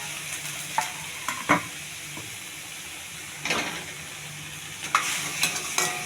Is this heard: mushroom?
yes